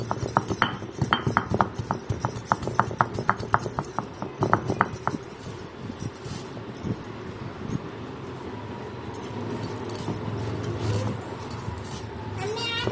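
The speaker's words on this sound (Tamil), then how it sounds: "வறுத்த மல்லி, மிளகு, சீரகத்தை நுணுக்கிக்கலாம்." Roasted coriander seeds, black pepper and cumin are pounded to crush them, with a quick run of sharp, evenly spaced clinking strikes for about five seconds, then a softer scraping and grinding rumble.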